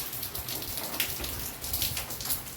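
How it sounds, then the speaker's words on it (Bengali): Steady rain falling outside during stormy, windy weather, a dense continuous patter on surfaces with gusty swells, close and fairly loud with no voices. "দেখো বৃষ্টি কিন্তু পড়েই যাচ্ছে"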